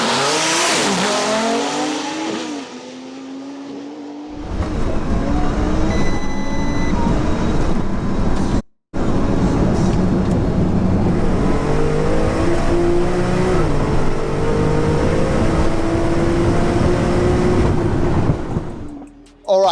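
Two 1500 bhp cars, a Porsche 911 Turbo S and an Audi R8, launching in a drag race: a loud revving roar climbing through rapid gear changes, then sustained close engine howl with shifting pitch before cutting off.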